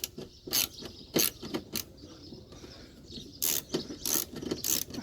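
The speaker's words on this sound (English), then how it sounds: "These screw heads are knackered on my screwdrivers." A screwdriver grinds and clicks against stripped screw heads on a Toyota Yaris Mk1 car part, in irregular bursts of sharp ratcheting scrapes separated by short pauses, close up.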